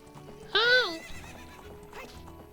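A horse in Zelda: Ocarina of Time gives a loud, bright whinny lasting about half a second, then faint hoofbeats and softer game sounds follow.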